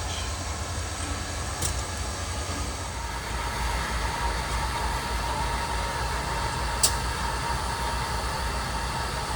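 Reading & Northern steam locomotive #2102 rolling past the tracks, a steady loud rumble with continuous rail and wheel noise and occasional brief squeals, sustained throughout.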